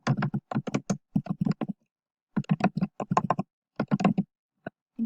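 Typing on a computer keyboard, quick clusters of crisp key clicks in several bursts separated by short pauses, close and clear with no talk.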